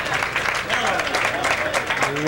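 An audience at a 1987 duckpin bowling Masters match bursts into brisk applause, a dense patter of clapping heard close up with a commentator talking over it.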